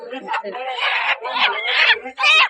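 Roosters at a village poultry market give loud, close clucking and squawking in bursts, with a short harsh crow near the end. Market voices mix in.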